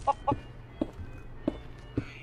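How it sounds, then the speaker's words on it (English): Chickens in Minecraft give five short, distinct clucks spaced about half a second apart, clear and moderately loud over a quiet game background. "Freaking love the chicken sounds"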